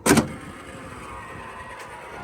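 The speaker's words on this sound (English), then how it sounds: "It is an electric trunk when you put it down." Electric trunk lid of a 1976 Cadillac Eldorado convertible coming down, a brief sharp thump at the start followed by a quiet steady motor hum, close by with no talk.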